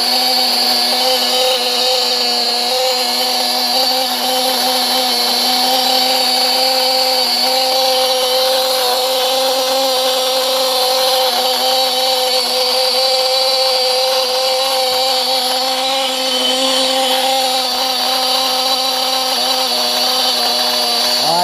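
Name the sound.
Picco .28 nitro engine running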